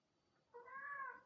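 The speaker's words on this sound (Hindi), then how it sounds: "लेकिन वो ह्यूमंस की नहीं, वो कैट यॉलिंग." A cat in heat yowls once, a drawn-out, rising and wavering cry that resembles a crying baby, fairly clear against a faint, quiet background with no speech.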